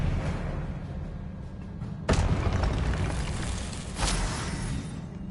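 Spells are cast in the Hogwarts Legacy video game, producing a sudden blast with a burst of fiery crackle, then a second, softer whoosh, over a constant rumbling game soundscape.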